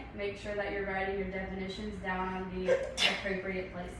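A teacher speaks steadily to a classroom while a brief sneeze from someone in the room cuts in near the end, partly masked by the talk.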